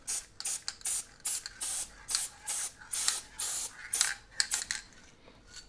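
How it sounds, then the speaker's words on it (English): Short hissing bursts of Elmer's spray adhesive from an aerosol can, about a dozen quick pulses in an uneven rhythm, close up and fairly quiet, applied while building a P-40C Tomahawk scale model. "I've got my Elmer's spray adhesive."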